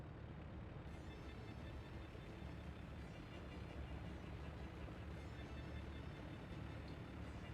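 A train approaching across a busy city-building map in Workers and Resources, heard as a steady low rumble that stays even and continuous throughout, with no voices over it.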